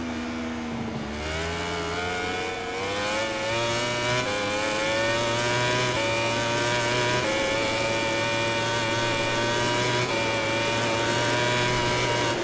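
A Suzuki racing motorcycle in the video game MotoGP 20 screams at high revs, its engine pitch climbing and dropping through gear shifts, loud and continuous throughout.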